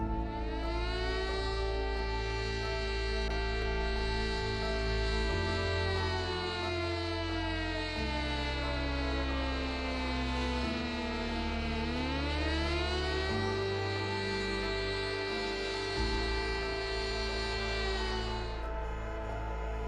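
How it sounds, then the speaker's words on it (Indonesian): Civil defense siren sounded in Nanjing for the national memorial on 13 December, a long loud tone that slowly falls and then rises again over a low droning bed, sustained for the whole stretch. "Tiap tahun pada 13 Desember, sirine dibunyikan di Nanjing sebagai peringatan nasional."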